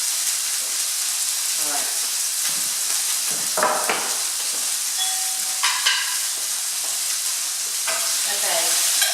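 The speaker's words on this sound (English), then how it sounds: "hot enough to begin with sautéing the onions" Onions sautéing in a hot casserole dish, a steady close sizzle and hiss with scraping stirs, while a voice speaks briefly.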